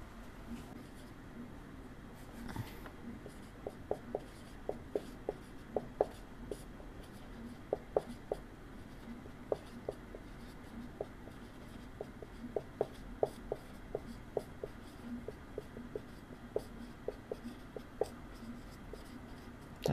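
Pen or chalk writing by hand during a Class 9 physics lesson, a steady run of short scratchy strokes and taps at close range over a faint room hum, with no talk.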